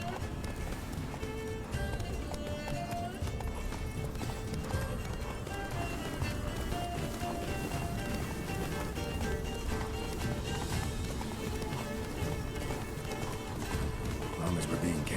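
Roach the horse gallops in The Witcher 3 with steady clip-clop hoofbeats, under dense game music and ambience, while voices talk over it.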